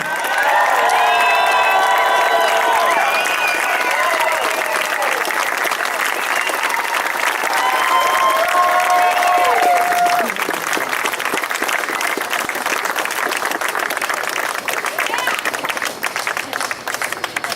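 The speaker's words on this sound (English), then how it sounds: "I'm in the back and I'm hearing all the applause." A large crowd at a congressional campaign kickoff applauds loudly and continuously, with cheering and shouting voices rising over dense, sustained clapping throughout.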